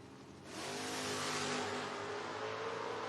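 Footbrake drag race cars, a Dakota and a Mustang, launch and accelerate hard with a loud, sustained engine roar that swells suddenly and holds, heard from the strip at a moderate distance.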